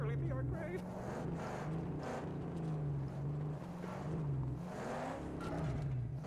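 A car engine roars and revs in a tunnel in the Mad Max video game, loud and continuous with pitch rising and falling throughout, under a voice talking over it.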